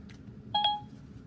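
A mobile phone going off indoors, a short pair of clear electronic tones over a low steady background hum.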